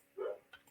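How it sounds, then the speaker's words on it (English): A single short dog bark in the background, faint and brief, followed by a couple of small clicks. "I apologize about the dog in the background."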